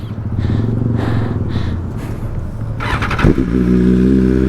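A BMW S1000RR sport motorcycle engine runs steadily, then blips and rises in pitch as the rider moves off, loud and close with a brief clunk partway through.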